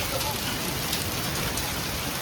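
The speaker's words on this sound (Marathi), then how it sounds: "जोरात पाऊस झालेला आहे एकदम आणि गारपीट पडत आहेत पावसामध्ये" Heavy rain mixed with hail pours down steadily outdoors at Varanasi, a dense, even hiss of falling water with small hard impacts scattered through it, continuous and fairly close.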